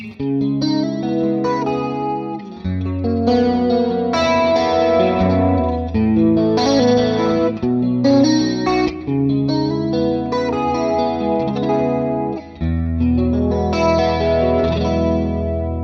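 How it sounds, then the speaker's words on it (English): Electric guitar strums chords through a shimmering chorus effect, a wavering, swirling tone sustained over a steady progression, loud and up close with no talking. "let's just choose a simple chorus like that"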